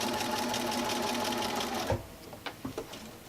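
A sewing machine runs a steady straight stitch along a quilt binding for about two seconds, then stops, followed by a few soft handling knocks and taps.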